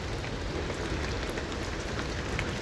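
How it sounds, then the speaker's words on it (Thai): Steady rain falls over a tropical jungle in the dim early morning, a dense, even hiss and patter that holds constant throughout with no voices. "ฝนยังตกมีความมืดคลึ้มนะครับ"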